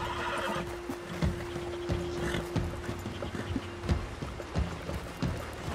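A horse in Red Dead Redemption 2 whinnies over a steady hum, with occasional hoof thuds and clatter scattered through.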